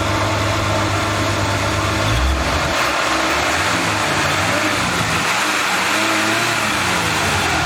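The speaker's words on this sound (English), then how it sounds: "Give her a rev. Give her a rev." A 1976 Chevy Nova straight six runs loud and close, the revving engine roaring up and holding high with a rough, steady drone and no speech.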